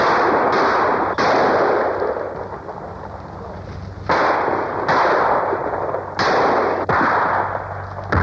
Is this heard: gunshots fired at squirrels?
yes